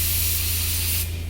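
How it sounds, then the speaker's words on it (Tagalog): Spray gun spraying silver paint: a loud, continuous pressurised hiss close by over a low steady hum, ending with a slight drop as the spray eases near the end of the short burst. "Ito yung spray gun natin."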